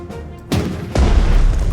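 Heavy naval guns in a Pacific-theatre strategy game boom twice in quick succession, loud and close, the second blast trailing into a sustained low rumble of battle.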